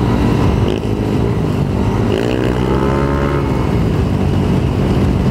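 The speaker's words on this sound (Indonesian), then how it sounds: "Tingnan natin kung papalag yung motor." Yamaha Mio with 4 valves and slim tires racing a loaded Yamaha NMAX on stock tires in a drag race: a loud, continuous engine drone that rises and falls in pitch as the motorcycles pass close by.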